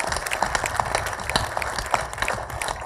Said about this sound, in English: let's do a nice clap for them